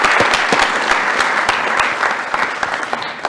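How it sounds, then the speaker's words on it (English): An audience claps loudly and steadily after a fireside chat talk, a dense close burst of many hands that thins slightly toward the end. "Can I get a big round of applause for this amazing talk?"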